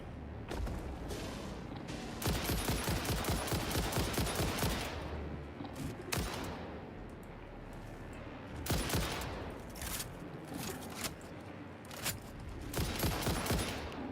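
Rapid bursts of gunfire in the video game Satisfactory hammer at a creature, with dense repeated shots in long volleys broken by brief pauses, loud and continuous across the whole stretch.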